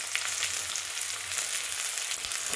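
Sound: onions frying in hot oil

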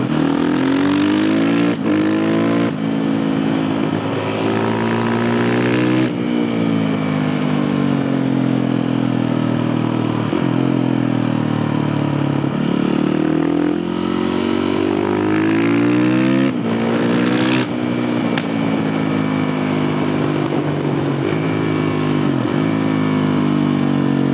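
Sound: Suzuki RMZ 450 motorcycle engine revving

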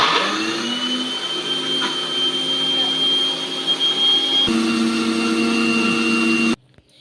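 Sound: mixer grinder (mixie) grinding dosa ingredients into powder

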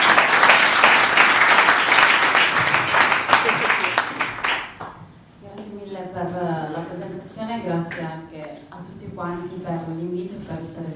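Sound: applause

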